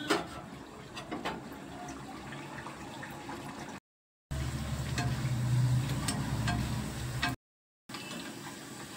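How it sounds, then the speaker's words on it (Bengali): Naan puri dough dropped into hot oil bubbles and sizzles with a steady, close, watery hiss that swells in the middle, broken by two brief silent cuts. "এবার আমি নানপুরিটাকে সুন্দর করে ছেড়ে দিচ্ছি তেলে।"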